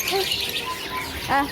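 Small caged birds at the Pramuka bird market chirp and tweet in brief high calls, with a clearer burst of chirping near the end, over crowd murmur and nearby speech.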